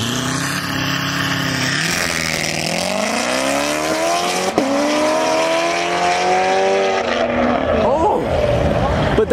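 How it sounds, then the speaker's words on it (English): Loud Corvette and BMW racing past, engine notes rising and falling with revving and a sharp shift partway through, close and continuous, with excited voices talking over it. "That Corvette is loud, but that Beamer is like quick"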